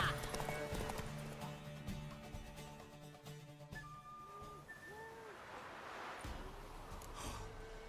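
Hooves clip-clop on the ground in The Witcher 3 while a horse snorts and whinnies nearby, with game music and ambient noise underneath and no clear speech.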